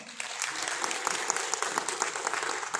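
Steady applause from a crowd, dense clapping throughout with no break, moderately loud and fairly close.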